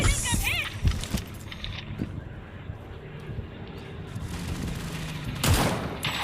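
Gunfire in the World War Heroes video game crackles in short bursts at the start and again near the end, with a quieter stretch between, under an excited voice.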